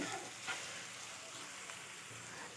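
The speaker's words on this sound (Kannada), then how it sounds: "ಈಗ ಸಣ್ಣದಾಗ ಹೆಚ್ಚಿರೋದು ದೊಡ್ಡದು ಎರಡು ಈರುಳ್ಳಿ ಸ್ವಲ್ಪ ಉಪ್ಪು ಹಾಕೋಣ ಈರುಳ್ಳಿ ಬೇಗ ಬೇಯಲಿ ಅಂತ" Two large finely chopped onions with a little salt frying in a pan, a steady close hiss of sizzling oil with faint crackles and a soft stir or two.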